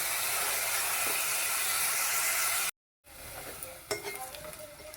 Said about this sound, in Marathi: कांदा व्यवस्थित लालसर होईपर्यंत परतून घ्यायचा.